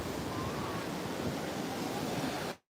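Ocean surf breaking at a fishing pier on a day with a surf competition, a steady close roar of waves and wind that cuts out abruptly at the very end.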